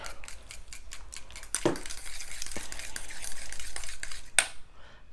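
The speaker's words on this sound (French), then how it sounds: "je vais prendre une fourchette et je vais mélanger le tout" A fork mixes strawberries with crème fraîche in a bowl, making a run of quick, close scraping and tapping strokes with soft wet squelches and a couple of sharper knocks against the dish.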